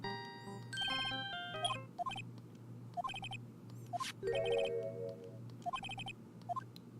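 Electronic phone ringtone from the game Phoenix Wright: Ace Attorney, a melodic run of bright tonal beeps and chimes over a steady low game music hum, repeating in short phrases at moderate loudness.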